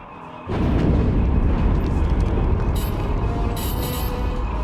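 Starship cannon fire and explosions in a space battle near a capital ship in SWTOR, a loud sustained roar of booming blasts with rapid crackling bursts layered on top.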